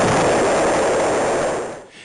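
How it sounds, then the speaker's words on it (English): Rock blasting in an open gold mine pit produces a loud, sustained broadband roar that holds steady for nearly two seconds before fading out. "When the rock is too hard to be excavated, it must first be drilled and blasted to fragment it."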